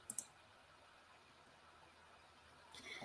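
Computer mouse clicking in software, two quick faint clicks right at the start in an otherwise quiet room.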